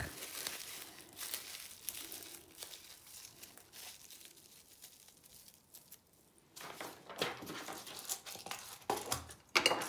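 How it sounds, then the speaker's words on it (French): An egg being wrapped in paper and plastic cling film, giving close, irregular crinkling and rustling that comes in bursts, drops quieter midway and then grows louder again. "c'est d'emballer votre œuf dans du papier, du film alimentaire"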